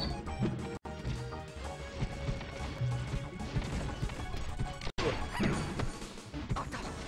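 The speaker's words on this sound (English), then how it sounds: "Raw forward smash." A forward smash lands in Super Smash Bros. Melee during a singles pools match, a sharp crash and whack inside dense, continuous game audio with crowd and background noise throughout.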